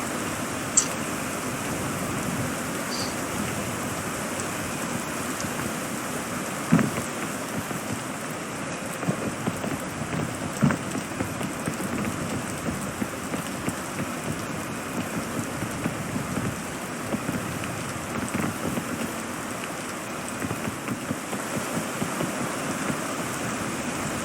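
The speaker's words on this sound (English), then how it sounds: "And the rain." Steady rain from the video game Peak, a dense, even hiss of drops with scattered louder patters and faint thunder-like rumbles underneath, continuous throughout with no talking.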